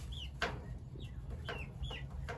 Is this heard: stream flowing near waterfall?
no